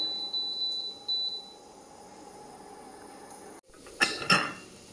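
Soft kitchen clatter and a faint tone give way to a sharp, shrill pressure cooker whistle, cooking a pea curry, that bursts out twice near the end.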